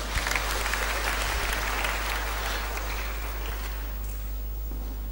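A round of applause from a congregation at a Christian teaching session for a woman who answered a question, with steady, close clapping that fills the clip and eases slightly toward the end over a low electrical hum.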